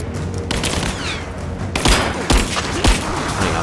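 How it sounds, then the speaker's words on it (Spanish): Gunfire in Rise of the Tomb Raider: a dense, loud fusillade of shots with several heavy booming impacts standing out near the end, over continuous combat noise. "ahora sí, disparo en la cabeza"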